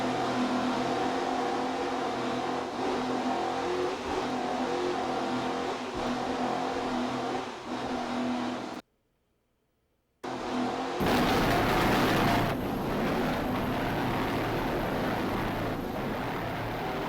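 A 46-foot Skater offshore racing powerboat with twin 1,400 horsepower Sterling engines and Arneson surface drives roars through rough water, a steady loud engine drone with a brief dropout, then returning louder and harsher.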